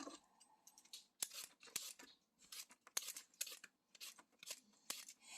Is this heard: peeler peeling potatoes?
yes